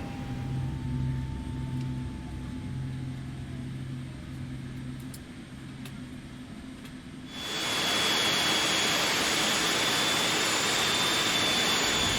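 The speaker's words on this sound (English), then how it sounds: "Starting engine 2 and 1." Engines two and one of a four-engine jet airliner starting at Melbourne with the other engines already running: a quieter cabin-like drone with low hums gives way about two-thirds through to a sudden loud roar and a high whine.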